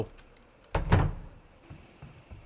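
A door swings shut in a Bigfoot video game, a quick sweep followed by a solid thunk, heard once amid quiet background.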